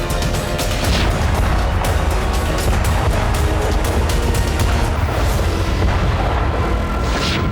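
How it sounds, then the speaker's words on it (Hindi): Strikes by a suicide drone and guided bombs on a building, a dense, loud barrage of booming blasts and rumbling over continuous heavy noise throughout. "बिल्डिंग पर आत्मघाती ड्रोन के साथ गाइडेड बम से भी हमले हुए।"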